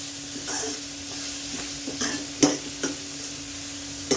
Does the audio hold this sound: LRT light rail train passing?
no